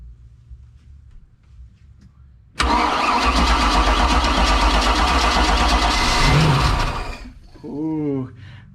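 A 1982 Cobalt boat engine with electronic ignition fires for the first time, bursting abruptly from quiet into a loud, close, steady roar that runs several seconds before cutting out, then voices speak excitedly over the tail end.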